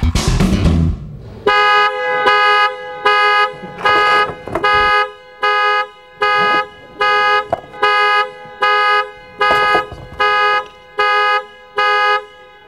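A car alarm blares in loud repeated honking bursts, about a dozen evenly spaced tones after an opening noise, close and with no talk over it.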